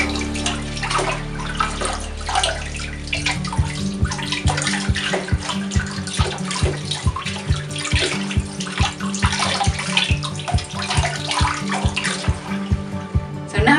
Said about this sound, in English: when you're washing the lettuce, make sure you remove all the soil and all the little beasties in there